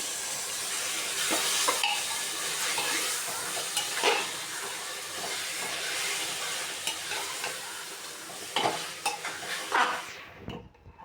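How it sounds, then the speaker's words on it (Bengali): Marinated chicken goes into a hot pressure cooker for Pakistani-style chicken, sizzling and frying steadily near the mic with scraping stirs and occasional pot clatter, fading out at the end. "এবার মেরিনেট করা মাংসটা দিয়ে দিচ্ছি"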